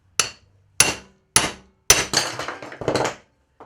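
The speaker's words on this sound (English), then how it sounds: "Club hammer, what I like to do first, just flatten it with 2 hits." A club hammer strikes a metal pipe in a workshop to flatten it, with loud sharp blows in an irregular sequence, the later hits coming in quicker succession with ringing tails.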